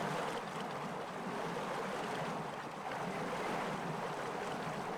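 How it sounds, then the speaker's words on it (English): Water rushes in across a Timberborn game map, a steady, dense wash like surf or wind-blown waves that holds at an even loudness for the whole stretch, with no voices over it. "And the water starts coming in"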